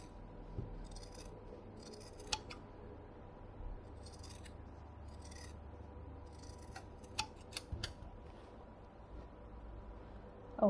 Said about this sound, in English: cut the fabric.